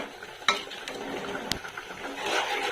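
A spoon stirring yogurt into a paneer gravy in a pan, soft scraping and clinks with a low simmering sizzle, fairly quiet and close, no talking.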